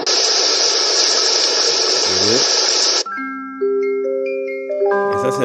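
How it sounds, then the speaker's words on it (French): From a bedside lamp's built-in speaker, a steady, fan-like white noise hisses for about three seconds and then cuts off. A soft melody of sustained chime-like tones follows. "On dirait un bruit de ventilateur."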